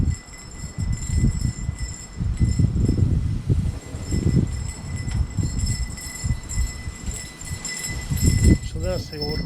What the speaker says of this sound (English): The wind is blowing reasonably strongly now